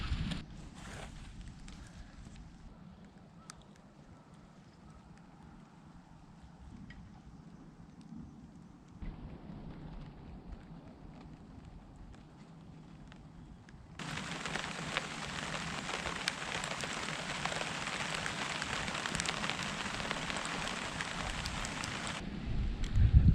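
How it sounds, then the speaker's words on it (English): Rain falling over an allotment garden in Tokyo, a steady soft hiss that swells markedly louder partway through as the shower gets heavier, with no voices. "Right, it's starting to rain now."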